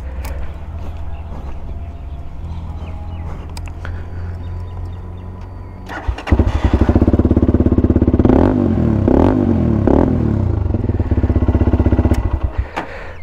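A modified GPX Demon GR165RR motorcycle with an Akrapovic exhaust runs close and loud. A low rumble jumps to a harsh, throaty bark partway through, then rises and falls in repeated throttle blips.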